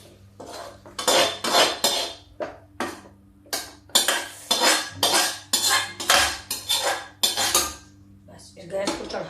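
Cooked spinach saag being tipped from a pan into a metal cooking pot, with a series of loud clanking and scraping metal knocks in an irregular rhythm, close up.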